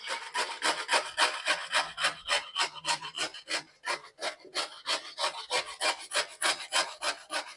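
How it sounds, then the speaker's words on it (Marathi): Carrots being grated on the finest grater for carrot halwa, a quick rhythmic run of rasping strokes, close and steady with brief pauses, with no talking. "आता आपल्याला गांजरे खिसून घ्यायची सर्वात लहान किसणीने आपल्याला गांजरं किसून घ्यायची"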